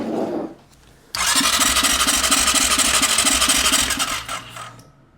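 An ATV or dirt bike engine cranks over with the starter, a loud, steady rhythmic churning that runs for about four seconds before cutting off, preceded by a brief softer sound.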